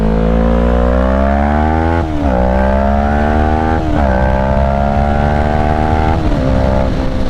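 Motorcycle on the road accelerating hard through the gears, a loud close engine whose rising whine climbs, drops briefly at each of three shifts, and then climbs again.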